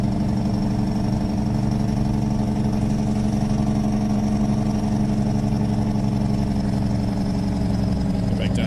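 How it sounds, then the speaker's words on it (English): Kenworth K100 truck in the American Truck Simulator game, its Jake engine brake giving a steady, loud, droning diesel rumble that holds without pause. "I'll let you listen to this engine brake, the Jake brake."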